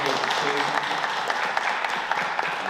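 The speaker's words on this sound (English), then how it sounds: "Let's have a hearty round of applause for the president of the school board" An audience applauds for a school board president at a high school Law Day session, a steady wash of clapping that carries on throughout with voices mixed in.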